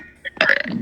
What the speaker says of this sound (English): Dude, stop burping